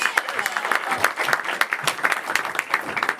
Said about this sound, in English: Let's clap for them as they come up, everyone.